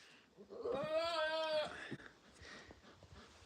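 A goat on a homestead lets out one loud, drawn-out bleat, close and clear, followed by quieter rustling and faint background sounds.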